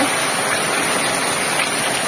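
Heavy rain pouring down outside, a dense, loud and unbroken hiss of downpour that fills the whole scene with no pauses.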